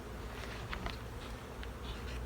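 Honey bees buzz steadily during a spring hive cleanup, a soft continuous hum close by with a few brief louder passes of individual bees, no voices present.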